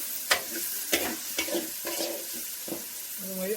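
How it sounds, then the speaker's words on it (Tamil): Tomatoes fry in hot oil for a Hogenakkal fish gravy, giving a soft sizzle broken by several sharp stirring scrapes at uneven intervals. "நம்ம போட்டு ஆயிலில் வந்துட்டு நல்லா ஃப்ரை ஆகும்."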